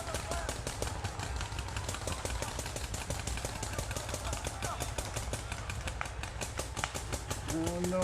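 Rapid paintball marker fire during a tournament match between XMEN and Warboys, a dense, continuous stream of sharp pops that holds steady and loud across the whole stretch, with a voice breaking in near the end.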